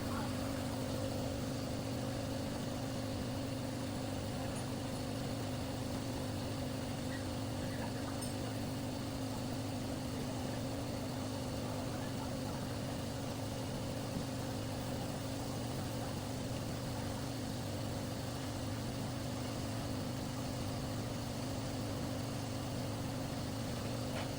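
A Mitsubishi Pajero Field Master engine, noisy and leaking oil, running steadily with a constant low mechanical drone and hum that stays even and close throughout, with no speech over it.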